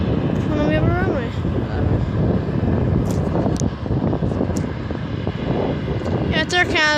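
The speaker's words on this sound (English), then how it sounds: "Yeah, it's Air Canada Dash 8." An Air Canada Dash 8 airliner at Vancouver airport makes a continuous broad roar with wind buffeting the microphone, while voices talk over it intermittently.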